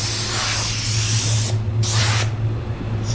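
A spray gun lays down a control coat of pearl paint with a loud, close airy hiss that breaks off briefly twice between passes.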